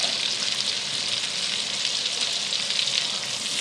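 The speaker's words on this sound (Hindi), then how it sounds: "अब जो मसाला बचा था उसको फ्राई कर लूँगी।" Leftover masala of ginger, garlic and onion fries in butter in a pan, giving a steady, bright, close sizzle without pause.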